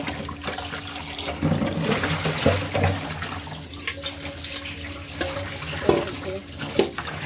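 Water from a tap splashes and gurgles as fish is washed in a home kitchen, with clattering and handling noises breaking in at times throughout.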